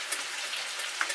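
Onions frying in a pan for a village-style broiler chicken gravy, a brief bright steady sizzle with small crackles and pops throughout.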